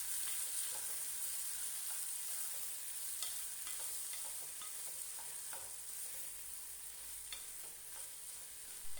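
Chopped tomatoes fry with sautéed onions for paneer butter masala, a soft, even sizzle close by with faint intermittent stirring scrapes, the hiss steady throughout and nobody speaking.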